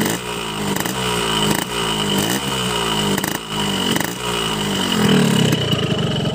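A hot two-stroke motorcycle engine runs close by, a loud buzzing drone with repeated rising revs and dips, swelling briefly near the end.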